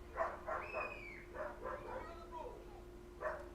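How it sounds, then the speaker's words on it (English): A dog barking outside a window, several yapping barks and whines at moderate distance, mixed with voices speaking. "Can you hear that dog?"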